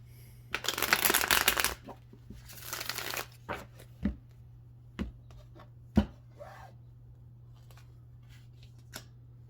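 A deck of tarot cards being shuffled close up, two long riffling bursts followed by several sharp taps and soft knocks as the cards are squared, with no talk.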